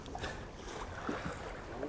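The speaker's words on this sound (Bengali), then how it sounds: "বোট চলাও শুরু হয়েছে আর বোট দোলাও শুরু হয়েছে" A boat moves across the lake at Maithon dam, with a soft, steady wash of water and wind. The sound is faint and even throughout, with no voices.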